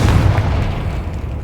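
A Confringo blasting spell in Hogwarts Legacy erupts as a deep, rumbling boom that fills the moment, sustained and loud with no talk.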